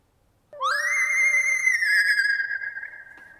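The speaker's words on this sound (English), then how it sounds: "Put on some howl on the character, which is like a really sort of aggressive, ghostly drive sound, and then use some space for reverb." Theremin run through a Chroma Console with aggressive howl drive and reverb, a single sustained ghostly tone that slides up sharply, holds with wavering pitch, then fades into a reverb tail, alone and fairly loud.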